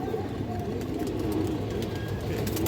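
A domestic pigeon coos softly and continuously nearby, the low murmuring calls steady throughout against a dense background hum.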